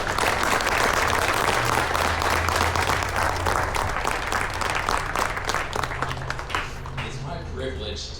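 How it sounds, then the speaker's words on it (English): An audience at a high school JROTC 9/11 ceremony breaks into loud, sustained applause that fills the space for several seconds, then tapers off toward the end, with faint voices underneath. "I think you deserve a round of applause"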